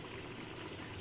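A little water is poured into a chicken karahi, a steady, faint trickling wash that runs evenly throughout with no voices.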